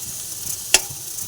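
Small-cut potato pieces fry in a pan with a steady close sizzle, broken by one sharp spatter or stir click midway, and no talking.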